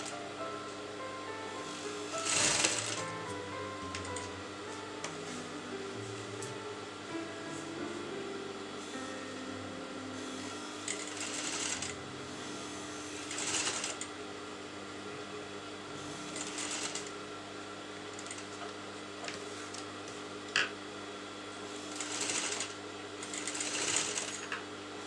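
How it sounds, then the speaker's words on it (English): Sewing machine stitching a kurta lining onto fabric, running in steady bursts of fast mechanical whirring with short pauses between runs, close and fairly quiet. "So just place the lining on the pretty side of the fabric, and I'm just sewing this."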